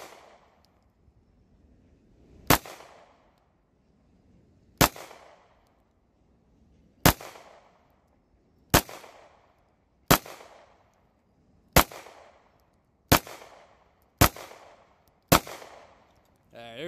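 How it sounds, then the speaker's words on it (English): Ten sharp 9mm handgun shots fired with Blazer ammo, loud single reports spaced one to two seconds apart, each ringing out and decaying before the next. "I got 10 rounds of just blazer ammo in here. So I'm going to see if I can group it any better with this gun."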